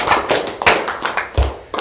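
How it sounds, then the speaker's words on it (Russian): Short burst of audience applause at a mafia game tournament final, a few loud uneven claps close by, with no talking. "Давайте аплодисменты."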